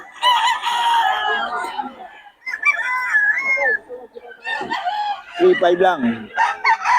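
Roosters and stag gamecocks crowing loudly at close range, several long overlapping crows with clucking between, as someone speaks briefly.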